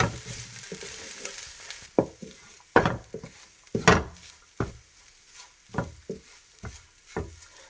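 Boiled, shredded chicken filling with no salt or pepper is mixed in a pan for spring rolls: a close series of about ten sharp spatula scrapes and knocks, spaced irregularly over a soft background, with no voices.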